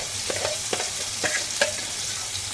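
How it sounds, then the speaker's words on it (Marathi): Ground masala paste goes into a hot pan for quick chole and is stirred, a few scraping spoon strokes over a steady sizzling fry, close and without talk. "इथे आपलं हे वाटण इथे ॲड करायचे आपण"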